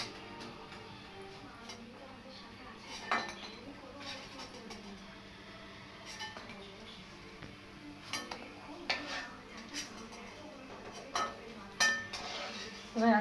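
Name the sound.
utensils clinking while lifting fried pakoras out of the pan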